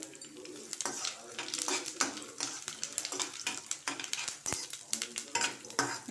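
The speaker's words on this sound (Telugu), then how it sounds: "కొంచెం నూనె ఇందులో ముందు పోపు వేయించుకుందాం." Dried red chillies, curry leaves and tamarind frying in a little oil as a tempering for a chutney, with a continuous crackling sizzle and frequent metal spoon scrapes and clinks against the pan, close up.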